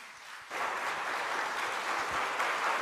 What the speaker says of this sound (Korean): 우리 큰 박수로 한번 환영할까요?